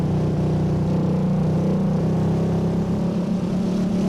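Engine exhaust of a vehicle in the off-road racing game FUEL, a loud, continuous low droning rumble with steady harmonic tone, slightly easing near the end.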